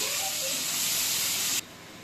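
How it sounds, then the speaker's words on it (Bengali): Chopped onion frying in hot oil with bay leaf and whole garam masala, a loud close sizzling hiss that drops abruptly to a quieter sizzle near the end, with no talking. "পেঁয়াজটাকে একটু লাল করে আমি"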